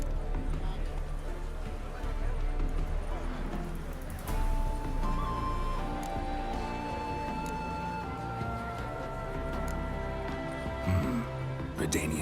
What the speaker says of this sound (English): The horses are saddled.